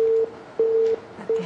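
A phone line tone after an incoming call drops, pulsing on and off in steady repeated beeps, clear and close with nothing else over it.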